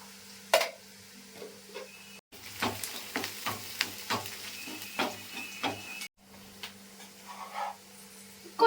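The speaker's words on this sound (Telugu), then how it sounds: "బ్రౌన్ కలర్ అయ్యేదాకా అయితే ఫ్రై చేసుకోవాలి" Onions frying in oil in a pan for tomato curry, a soft continuous sizzle broken by repeated scraping and stirring clinks of a spoon against the pan, close by and without talk.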